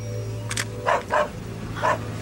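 Three or four short dog barks at a steady pace, fairly close, over a low constant hum with no talking.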